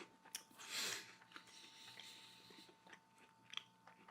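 A cookie dough Twix bar is bitten and chewed, giving a crisp crunch near the start followed by softer, quieter mastication clicks, close up with no talking.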